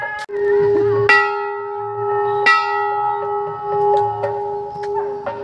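Temple bell at Chatkeshwar Temple in Pithoragarh, struck three times at intervals, each strike sounding a bright metallic clang with a long sustained ringing tone that hangs between strikes, heard close with faint background sounds.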